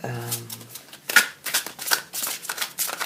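Tarot cards being shuffled for a reading make a run of quick papery riffles and slaps in short bursts, close and fairly loud. A brief tonal hum or voice-like sound opens the sequence.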